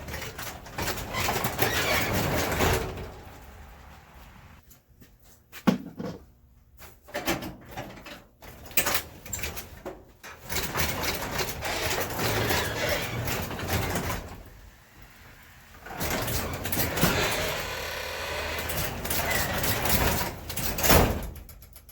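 A residential garage door rolls up after a new cable install, a long rattling, clattering run of panels and rollers with squeaks and knocks, fairly close and steady, pausing briefly midway before continuing to the top.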